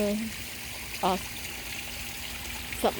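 A small waterfall by a forest fish pond gives off a steady, even rush of water throughout, with a few brief bits of a voice cutting in above it.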